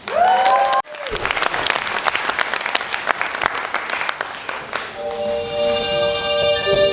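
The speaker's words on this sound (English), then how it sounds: "give a big round of applause for our merry mob of blobs" A theatre audience at a family stage show claps loudly and densely for several seconds, with cheering mixed in. The applause ends abruptly and is followed by a bright, sustained musical tone.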